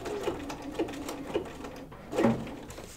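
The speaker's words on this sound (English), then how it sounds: "I'm going to lower the feed dogs and do a couple stitches in place there" Sewing machine stitching an appliqué poppies quilt with the feed dogs lowered, a few short close mechanical stitch bursts in an even rhythm, with a louder burst near the end.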